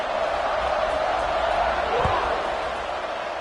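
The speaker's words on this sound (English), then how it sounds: "this crowd is buzzing after that last score" A college football stadium crowd in a close game against NC State buzzes steadily after a score, a dense, loud roar of many voices with one brief thud partway through.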